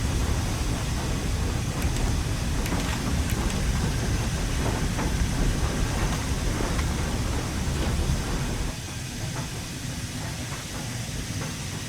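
Stanier Jubilee steam locomotive near Peak Forest in Train Sim World 3 gives a dense, continuous steam hiss with faint rhythmic chuffing and mechanical clatter underneath, which drops to a quieter hiss near the end.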